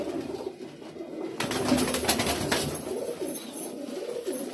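Salara highflyer pigeon chicks in a loft, with soft cooing and rustling close by and a louder flurry of activity partway through.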